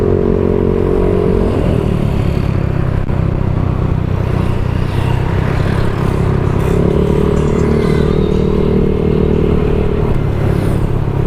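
Motorcycle ridden through city streets in Angeles City, Philippines, with a steady close engine drone, rumbling low tones and road clatter continuing without a break.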